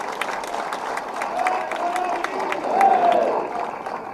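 Applause and crowd noise from the audience at a Tamil political speech, a dense patter of clapping mixed with general crowd murmur that swells louder near the end.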